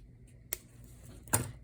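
Two quick, crisp snips from small scissors trimming craft paper, the first around half a second in and the second a bit louder near the end, close by against a quiet background.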